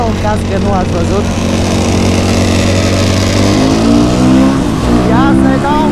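A motocross bike engine idles and revs loudly nearby on an enduro outing, a rough continuous drone with rising throttle blips, while someone speaks over it.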